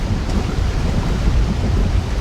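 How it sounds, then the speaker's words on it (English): Steady, dense rainfall roars loudly and evenly close by, with a low rumbling undertone and no speech. "I just thought it was raining"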